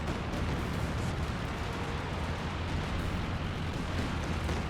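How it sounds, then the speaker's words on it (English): Artillery shells pound Panzer Grenadiers in the Company of Heroes 2 video game, a continuous dense roar of rumbling blasts and explosions packed together with no clear gaps. "Panzer Grenadiers get annihilated by artillery."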